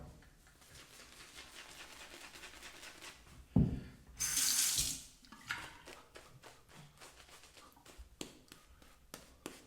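Tap water running to rinse a razor during a wet shave with a Feather Artist Club SR, a short burst of splashing flow near the middle among quieter handling clicks.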